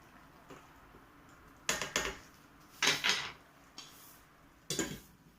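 Several sharp clattering knocks, like a lid set onto a metal pot of cooking vegetable rice, come in separate bursts against a quiet background.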